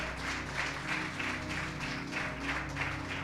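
Steady applause from a church congregation, sustained and even, filling the whole stretch without any voices.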